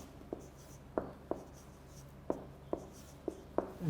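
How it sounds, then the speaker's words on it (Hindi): Quiet writing on a board during an English lecture, a string of sharp, separate taps and strokes at an uneven pace, heard close with no speech. "मैं लिख भी देता हूँ"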